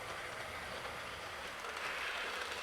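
A Hornby Class 20 model locomotive running, giving a steady, even mechanical whir and rumble throughout the short stretch, with no voices.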